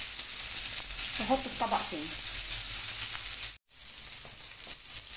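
Sausage sautéing in a frying pan gives a steady, close sizzle and crackle throughout, with a brief voice speaking over it early on and a short cut to silence near the end.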